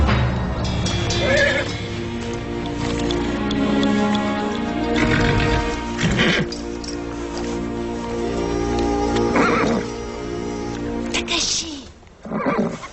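A horse neighs and whinnies several times in a dramatized adventure scene, loud shrill calls rising over music and voices, with some hoof clatter mixed in.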